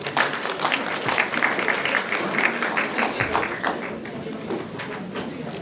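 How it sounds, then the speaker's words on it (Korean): Audience applause at a social welfare center's 30th anniversary seminar in Seoul, a steady round of clapping from the room lasting several seconds, with a faint voice murmuring underneath. "박수 부탁드리겠습니다."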